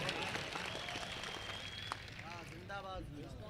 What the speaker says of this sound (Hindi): तालियों से इस्तकबाल करो दोस्तों